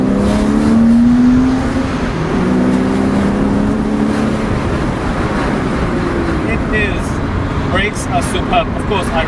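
A Porsche Boxster S 987 accelerates hard in second gear, its engine note climbing in a loud, rising sweep before settling into a steady drone, with someone talking over it.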